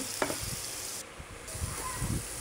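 Hilsa fish pieces sautéing in a pan for a hilsa curry with vegetables, giving a steady close sizzle with occasional soft stirring scrapes, no voices.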